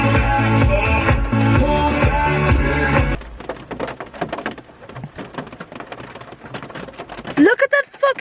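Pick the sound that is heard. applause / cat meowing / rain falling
rain falling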